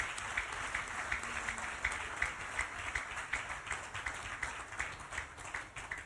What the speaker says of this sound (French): L'église a applaudi l'équipe là pour nous.